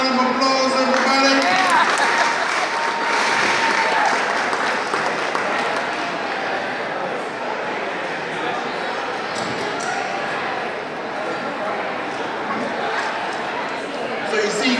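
Applause and crowd chatter fill a room during a stage magic show as the audience cheers a volunteer, steady clapping mixed with voices and talk throughout, some bursts louder than others.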